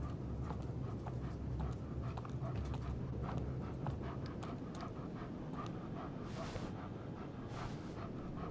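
A dog pants steadily in the Life is Strange video game, a continuous rhythmic breathing close by, with faint footfall-like taps and a soft rushing noise at times.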